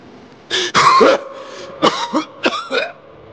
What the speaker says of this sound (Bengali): ব্রেকফাস্ট টেবিলে বসে খুক খুক করে কাশি।